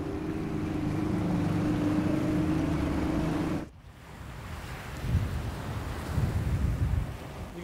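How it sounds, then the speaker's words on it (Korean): Military rubber boat motoring across Antarctic sea water toward Sejong Station, a steady wind-buffeted engine and wash that cuts off abruptly partway, followed by choppier splashing and rumbling water. "세종과학기지까지는 월동대원들이 타고 다니는 군용 고무보트로 이동해야 한다."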